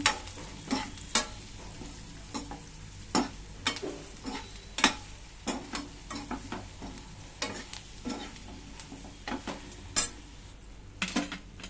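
Sambar powder mixture with drumsticks and mango is stirred in a sizzling pan, with repeated sharp scrapes and metallic clinks of a spoon against the pan at an irregular rhythm over a soft frying hiss.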